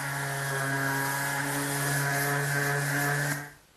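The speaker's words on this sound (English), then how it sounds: "I want to sand all the rails with my palm sander, which has some 120 grit sandpaper in it." A palm sander loaded with 120 grit sandpaper works over wooden rails for a folding table, giving a loud, steady droning buzz with strong tonal hum that cuts off abruptly near the end.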